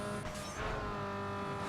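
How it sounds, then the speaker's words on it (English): In the racing video game Need for Speed Underground 2, a boosted car engine holds a steady, close drone with a rising turbo whistle and boost surge near the start, loud and continuous for a brief moment. "You can hear the turbo whistle as well."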